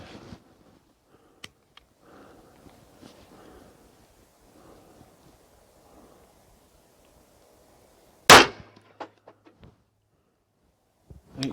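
A single sharp gunshot from a 1911 pistol firing Speer Gold Dot ammunition at a range, loud and close, standing out against quiet background rustle with a few small clicks after it.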